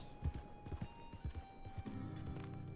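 In Red Dead Redemption 2, a horse's hooves clip-clop in an uneven rhythm, joined by a neighing whinny toward the end, all fairly quiet and set over a low steady hum.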